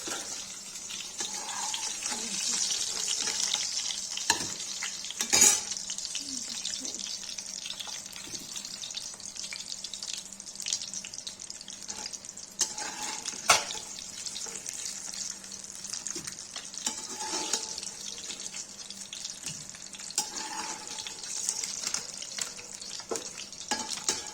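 Eggs fry in a pan for a creamy white gravy egg curry, a faint steady sizzle with occasional light clicks and scrapes over about twenty seconds, no talking.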